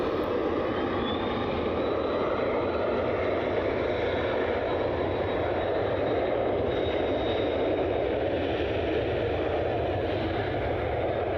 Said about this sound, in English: American. This is flight 2336. It's a 737-800.